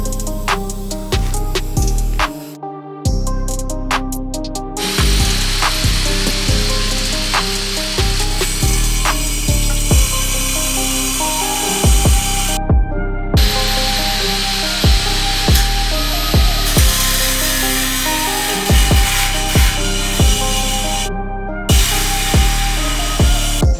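Steady, loud wood sawing, cutting through a house wall along spray-painted guide lines, with repeated rhythmic strokes and a few brief pauses throughout, no talking.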